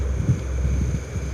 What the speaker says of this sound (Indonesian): Kayaknya angin mulai kencang,